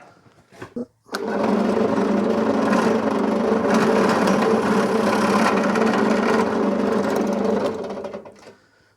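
A drill bores a hole into an old trophy in one continuous loud whir lasting several seconds, preceded by a few brief taps and trailing off at the end.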